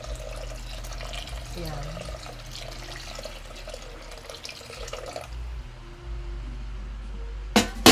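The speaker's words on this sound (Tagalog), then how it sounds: "Mainit, maliganggam na tubig guys, nilalagay ko." Warm water streams steadily into a cooking pot for sardines with malunggay and misua, a continuous close splashing pour that stops partway, followed by a brief clink, with a voice speaking over it.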